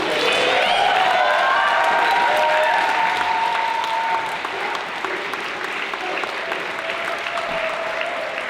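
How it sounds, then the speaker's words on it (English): Audience applause following a lecture on post-fossil-fuel economics and an Indigenous Green New Deal, dense and steady throughout, with some cheering mixed into the crowd noise. "How about one more round of applause for Winona LaDuke?"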